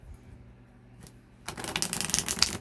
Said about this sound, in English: It's one of my favorite decks to shuffle.